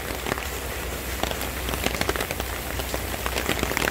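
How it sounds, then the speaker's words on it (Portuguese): Heavy rain pours down in Porto Alegre, a dense, steady hiss of drops striking surfaces with scattered sharper patters, continuous and close, with no voices. "mesmo com a chuvarada toda"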